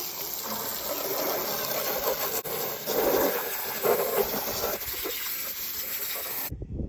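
Water sprays steadily onto a Suzuki Quadsport LT80 ATV with a stuck engine during a wash-down: a continuous, loud broadband hiss with slight surges, cut off abruptly at the end.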